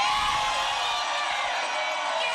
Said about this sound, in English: it's a very energetic crowd here